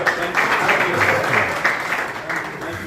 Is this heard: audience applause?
yes